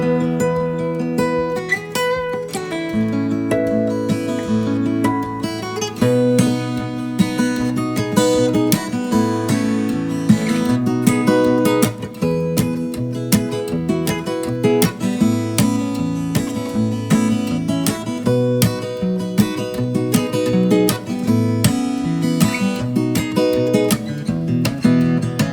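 Fingerstyle guitar plays a song's intro with a thumbpick: bright, rhythmic plucked notes over a steady bass pulse, close and clear with no talking throughout.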